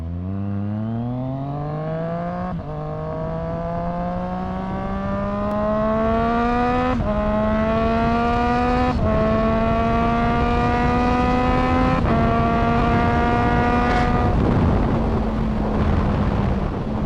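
A Triumph Street Triple RX motorcycle engine warms up and revs, a loud close exhaust note climbing in pitch through repeated rising throttle blips and held high revs before easing back.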